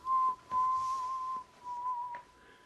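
Someone whistles a slow, mournful melody in a few sustained notes, clear and close in a quiet room.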